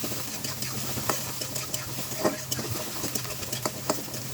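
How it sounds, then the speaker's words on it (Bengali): Whole cumin, chopped onion and bay leaf fry in hot oil with a steady, close sizzle, broken by scattered small pops and light stirring scrapes. "তেলের উপর আস্ত জিরা দিয়ে দিলাম, পেঁয়াজ কুচি দিয়ে দিলাম, আর তেজপাতা দিয়ে দিলাম।"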